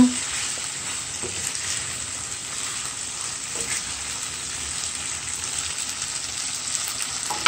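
Shrimp scampi frying in a pan gives a continuous, even sizzle with faint stirring underneath, close by and steady throughout, and no one speaks.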